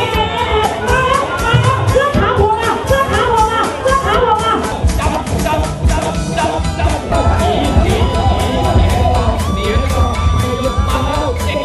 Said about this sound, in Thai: กองเชียร์ก็ร่วมรุ้นร่วมเชียร์กันอย่างสนุกสนานข้างขอบอ่าง